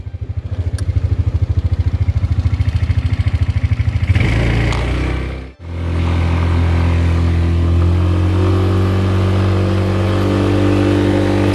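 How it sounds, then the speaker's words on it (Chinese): A farm transport truck with a 180cc engine and a high-torque gearbox, carrying a load and climbing a hill in low gear, gives a loud, close, pulsing drone that drops out briefly and then settles into a steady high-revving hum. "那个高扭力的变速箱加上它的哈 180cc 的引擎哦，这样爬山到底够力吗？"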